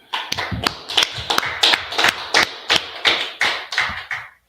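A small group claps hands in uneven, repeated bursts of sharp slaps, close and fairly loud, at a Biblical law class gathering with no talk over it.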